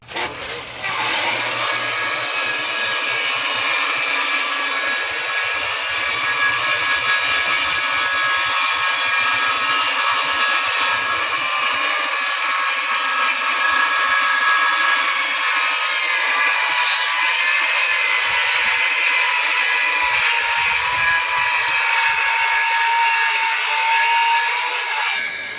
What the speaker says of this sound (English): So all I'm going to do is go by the graduations on the saw table here for a rip guide.